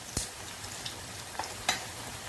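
Kothimbir vadi fries slowly on low heat in a pan, a faint, even sizzle broken by a few soft pops and crackles.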